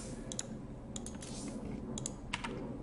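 Computer keyboard keys pressed for hotkey editing, giving a few sharp separate clicks spread over about three seconds against a steady low background hum.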